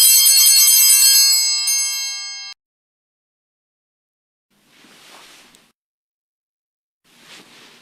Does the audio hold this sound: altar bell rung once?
yes